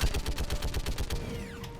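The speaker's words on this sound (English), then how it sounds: "It's very burst fire." Burst-fire gunshots from a rifle in Mass Effect 3, about a dozen rapid, evenly spaced close reports over roughly a second, then a fading mechanical tail.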